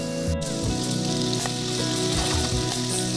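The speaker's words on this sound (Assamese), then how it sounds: "আদা নহৰু কেঁচা গোন্ধটো যোৱালৈকে, পিঁয়াজখিনি ৰঙচুৱা হোৱালৈকে লো ফ্লেমত অকণমান ভাজি লওঁ।" Chopped onion with ginger-garlic paste frying in oil on a low flame, giving a steady, close sizzle throughout with faint stirring scrapes and no voices.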